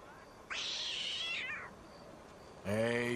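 A cat in Red Dead Redemption 2 lets out a drawn-out, wavering meow, followed after a short pause by a second, sharper meow, both close and clear against a quiet background.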